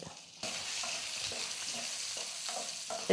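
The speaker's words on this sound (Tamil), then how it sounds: "இஞ்சி பூண்டெல்லாம் கொஞ்சம் வதங்கிடுச்சு" Ginger and garlic sauté in a pan, a close, bright sizzle that starts abruptly and holds steady, broken by soft stirring scrapes at intervals, with no voices.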